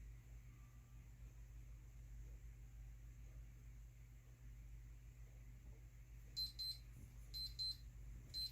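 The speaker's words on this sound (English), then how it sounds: "I'm going to set a timer for 15 seconds." A kitchen-style countdown timer goes off during a dog's heart-rate check at a veterinary exam, sounding two short bursts of rapid electronic beeps near the end over a quiet, steady room hum.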